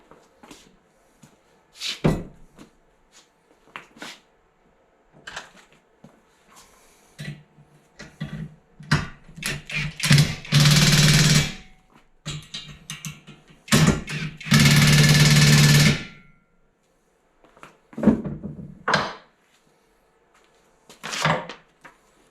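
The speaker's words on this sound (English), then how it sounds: "We'll use our little plate here to hold it up while we tighten the bolts." Bolts being tightened during assembly of a Pittsburgh 1000 lb engine stand, with a plate holding the parts: scattered metallic clicks and ratcheting bursts, some longer grinding stretches, close by with quiet gaps between.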